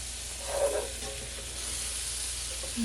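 French toast frying in butter in a pan over medium-high heat, a soft continuous sizzle and hiss at a low level with no voices.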